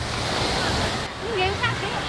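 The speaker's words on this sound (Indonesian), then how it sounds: "ombaknya ini besar sekali" Large surf rolls in at Carita beach in rough weather, a continuous close roar of breaking waves with a faint voice briefly heard over it.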